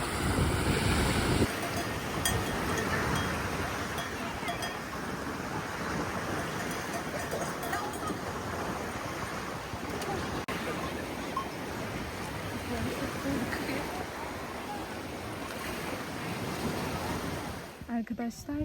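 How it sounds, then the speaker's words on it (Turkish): Continuous rushing surf on a somewhat choppy sea at a cove in Bodrum, Turkey, fills the scene, a broad steady wash of waves with wind buffeting the microphone throughout. "Deniz biraz dalgalı ama temiz böyle gördüğünüz gibi."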